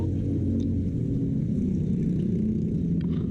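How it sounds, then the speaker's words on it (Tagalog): SYM motorcycle that is hard to start, its engine running with a loud, continuous low rumble close by, steady throughout with no speech. "Hard start lang siya, meron na eh."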